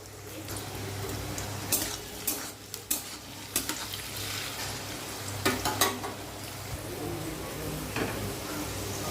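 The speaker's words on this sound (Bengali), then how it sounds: "গাজরটা ভেজে নেব।" Carrots frying in a pan while cooking vegetable khichuri, a faint steady sizzle with occasional scraping stirs and light clinks of the pan.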